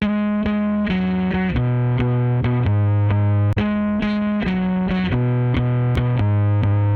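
Bass guitar notes with gritty, distorted upper harmonics and a sharp pluck on each attack, playing a steady riff at constant loudness with no voices.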